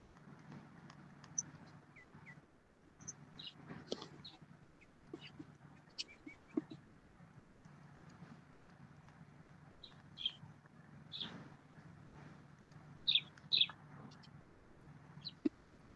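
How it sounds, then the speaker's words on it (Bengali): Common myna birds calling in scattered short chirps and squawks, faint and somewhat distant over a low steady background hum, with a brighter cluster of calls near the end. "হ্যাঁ ভাই, আমার এখানে। শালিক পাখি।"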